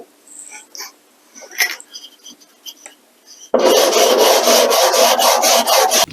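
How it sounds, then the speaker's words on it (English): Scattered light scraping and tapping on a model railroad rail, then a loud, steady rapid rasping of sanding the rail by hand that continues to the end. "and then you should be able to keep sanding"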